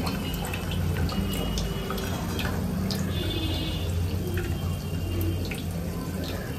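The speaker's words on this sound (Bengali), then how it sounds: "এবার ছাঁকনিতে করে তেঁতুলের কাঠটা ছেঁকে দিচ্ছে, যাতে কেবল শুধু জলটাই পড়ে।" Boiled tamarind water poured through a kitchen sieve, a continuous close splashing trickle of liquid running steadily throughout with faint drips, no talking.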